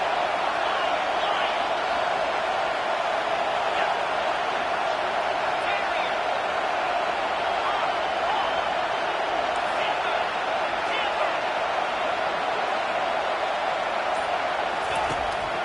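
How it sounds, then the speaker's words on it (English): A stadium crowd roars in an NCAA 25 college football game between USC and Wisconsin on a third-down defensive stand, a dense steady wall of cheering noise that holds at high level throughout, with a commentator talking over it. "Decibels rising as the crowd gets behind this defense on third down."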